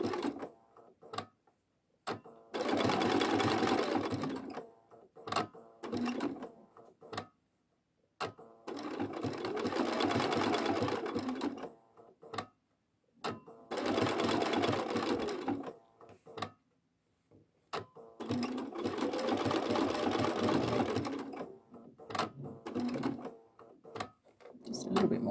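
Sewing machine stitching fabric in four long bursts separated by short pauses while the fabric is pivoted, with quiet handling and a voice speaking during the gaps.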